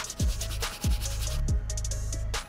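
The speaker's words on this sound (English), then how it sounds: "Let's see if the brass bristle will do the job." A brass bristle brush scrubs grime off the side of a 20-year-old Jordan 15 "Columbia Blue" sneaker, making loud, rough, repeated scratchy strokes with short pauses between passes.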